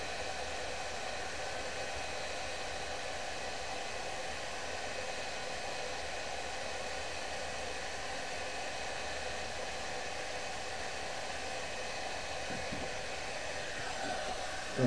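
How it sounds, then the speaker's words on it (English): Heat gun with its fan at full blowing over epoxy resin art on a guitar pickguard, a steady, even rushing whoosh that holds unchanged throughout, close and moderately loud. "take my heat gun, make sure the fan's all the way up, and just blow it around."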